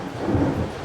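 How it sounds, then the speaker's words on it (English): A low, sustained rumble of thunder swells briefly and then holds, a deep rolling boom from a storm with a hint of rain behind it and no voices. "fucking thunder."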